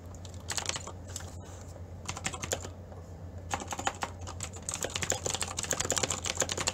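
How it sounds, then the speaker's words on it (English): A loud computer keyboard clacks under rapid typing, bursts of close, crisp keystrokes in uneven clusters with short pauses between them, no voices. "My keyboard's really loud,"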